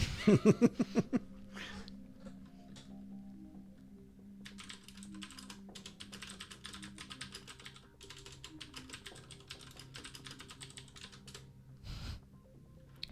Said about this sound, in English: Yes, I'm typing back to you.